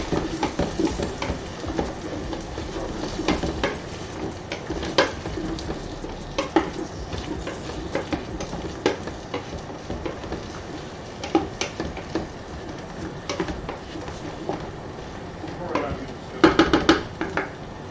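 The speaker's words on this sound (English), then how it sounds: "I hear this sizzling. It's time to give it a stir." Vegetables sizzle in a pot for potato soup while a utensil stirs and scrapes against it, with soft frying hiss under scattered clanks of metal on cookware and a busy clatter near the end.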